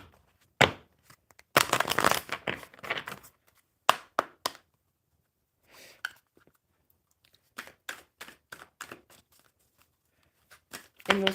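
A deck of cards is shuffled by hand at a table, with bursts of riffling and rapid flicking taps separated by short pauses, close and crisp, followed by a quick run of snaps.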